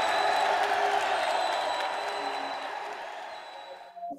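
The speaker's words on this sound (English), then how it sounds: "let's give them a round of applause" A studio audience claps and cheers to welcome performers onto a web TV show, a dense wash of applause that gradually tapers off and drops away at the very end.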